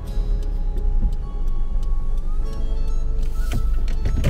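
A car's turn indicator ticks in a steady, regular rhythm during a three-point turn on a Castle Hill, Sydney driving test route, heard inside the cabin over low engine and road hum, with a few thumps near the end.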